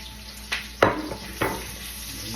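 Onion and garlic sauté in a pan for a sponge gourd dish, with a steady low sizzle broken by three or four distinct spatula scrapes and clinks.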